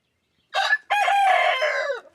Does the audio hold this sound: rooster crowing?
yes